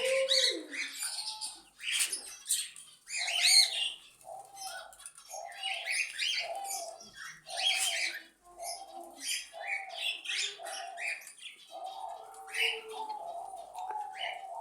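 Pet birds kept close to a hand and a piece of flatbread, giving repeated soft cooing calls in a regular rhythm mixed with chirps and fluttery sounds, with a person talking quietly alongside.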